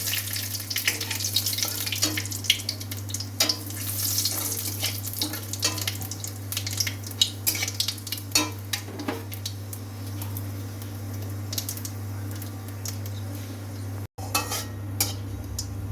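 Bay leaves, dried red chillies and Bengali five-spice crackling in hot oil in a wok, a continuous close sizzle with scattered pops and occasional utensil clinks under a low kitchen hum.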